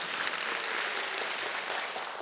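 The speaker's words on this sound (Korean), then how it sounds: "유성우 교수님께 감사의 박수 한번 부탁드립니다" A lecture audience gives thank-you applause to forensic scientist Professor Yoo Seong-ho, a brief, dense burst of many hands clapping evenly throughout, with no talk over it.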